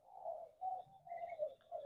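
A captive oriental magpie-robin from a breeding pair sings quietly, with fluty repeated whistled phrases and a few higher notes, fairly faint and alone.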